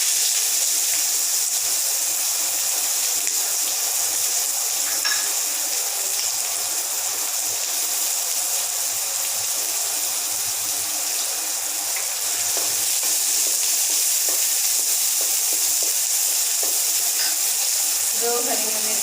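Cumin seeds and onion sizzle and fry in a hot pan for malai pasta, a loud, continuous hiss and crackle with small bursts of stirring and no talking.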